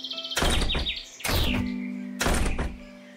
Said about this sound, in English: All three of them closed their doors with a bang.